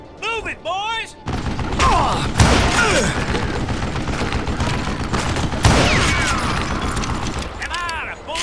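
Gunfire in the Western shooter game Call of Juarez Gunslinger, with dense, sustained volleys of shots and ricochets from about 1.2 seconds on, loud and close, over game music and voices.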